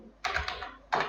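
Keys clack on a computer keyboard while entering an Excel formula, two short bursts of taps close to the microphone with a brief pause between.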